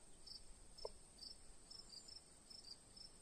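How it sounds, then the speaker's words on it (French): Steady, high-pitched cricket chirps repeat in short bursts through a quiet background, with a single brief tap partway through. "écouter le son des grillons en arrière-plan"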